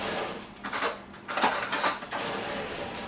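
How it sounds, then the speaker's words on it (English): A metal spoon being picked up and handled in a home kitchen while cooking tandoori chicken with turmeric rice, a few light clinks and scrapes against faint background noise. "Let me get a spoon"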